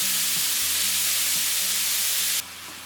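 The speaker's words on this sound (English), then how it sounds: "Stir the beef around." Beef fries in a pan while being stirred, a dense close sizzle running continuously with low tonal hum beneath, dropping abruptly in level near the end.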